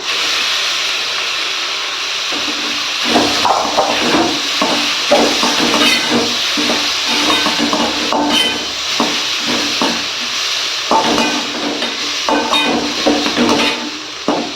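Cooked, chopped goat intestines hit a hot pan for a Tamil-style kudal fry, giving a steady loud hiss with irregular crackling spatters and stirring knocks throughout, no talking.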